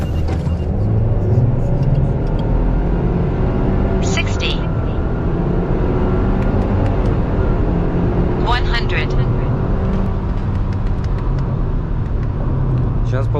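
A Subaru Forester SK5 with a 1.8 turbo pulls hard through a 0-100 run, its engine note climbing steadily and dipping at gear changes. Road and cabin noise stay loud throughout, and people talk over it.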